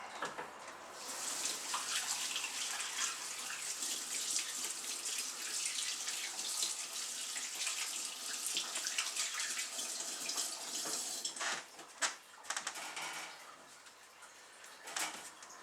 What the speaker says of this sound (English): give my hands another quick rinse